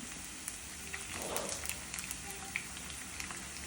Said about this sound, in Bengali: আর একটা সুন্দর আওয়াজও পাওয়া যাচ্ছে যে পেঁয়াজটা বেশ তেলের সঙ্গে মিশে যাচ্ছে